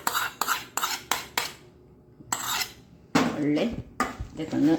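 A pan of okra masala with coconut oil and tamarind being worked with a utensil: a run of rapid, close metallic scrapes and clinks against the pan, a short pause, then denser scraping and stirring with faint sizzle underneath.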